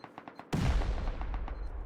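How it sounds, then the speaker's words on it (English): A loud C4 explosive detonation in Rust during a 6v6 tournament base raid, a sudden heavy boom with a long rumbling tail over earlier faint clicking and gunfire-like taps. "You can hear the C4."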